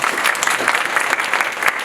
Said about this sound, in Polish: poproszę tak jakieś brawa na początek